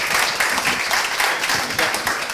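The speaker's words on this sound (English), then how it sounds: "let's give our volunteers a round of applause here" An improv audience applauds its volunteers, dense clapping close and loud, filling the whole stretch without letup.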